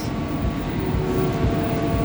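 An LRT Jabodebek train sounds at the Dukuh Atas station platform in Jakarta, giving a steady, loud low rumble with faint tonal hums over about two seconds and no voices.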